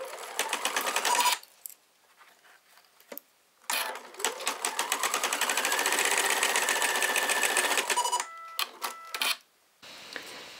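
A home embroidery machine stitches an appliqué with rapid, even mechanical chattering in bursts, pausing between runs, then short stop-start stitching near the end, close and clear.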